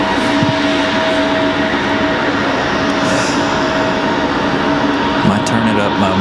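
CRJ regional jet heard from a plane-spotting spot at Raleigh Durham International, a loud continuous roar with a steady whine, dense and unbroken throughout, with some voices faintly underneath.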